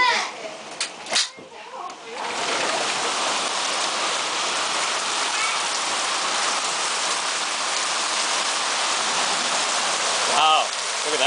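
Heavy rain mixed with hail pounds down steadily during a typhoon in Kyoto, a dense, loud hiss after a few brief knocks and voices at the start.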